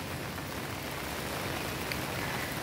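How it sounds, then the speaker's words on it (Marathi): Steady heavy rain pours down in a dense, even hiss that stays constant throughout, with no voices. "घरातनं निघाल्यापासून पाऊस चालूच आहे."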